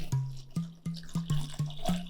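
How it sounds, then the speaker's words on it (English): Water being poured into a blender while making a basil-lime cooler, heard as a series of short splashing, dripping bursts at a fairly steady rhythm, close and moderately quiet. "We'll add water to"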